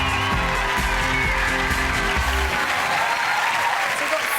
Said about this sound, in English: Please make some noise, bit clapping, whooping, or a bunny rabbit noise